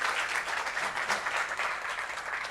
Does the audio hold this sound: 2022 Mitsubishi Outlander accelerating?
no